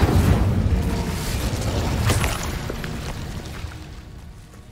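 Incendio fire spell cast in Hogwarts Legacy: a loud, broadband fiery burst with a rumbling whoosh and crackle that slowly fades over a few seconds, with no voices.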